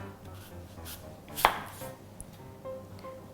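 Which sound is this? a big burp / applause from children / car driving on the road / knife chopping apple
knife chopping apple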